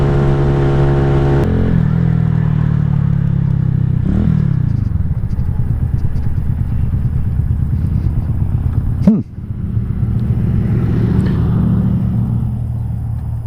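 A KP Mini 150 motorcycle fitted with a muffler cruising at speed, its engine holding a steady rumbling drone with a brief shift in pitch, heard close over wind noise.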